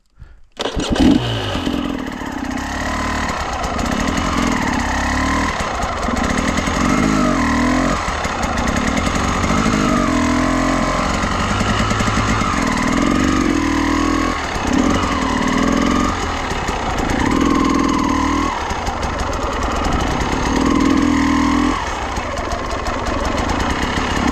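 An enduro motorcycle engine runs loud and close during uphill clutch practice, its revs rising and falling in repeated surges as the bike rolls up and back, with no talking.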